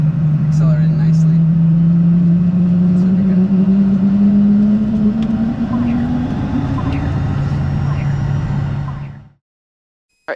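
A Cirrus Vision Jet engine spooling up during start on a hot ramp, a loud steady whine rising slowly in pitch over a broad roar, close by, before cutting off abruptly near the end.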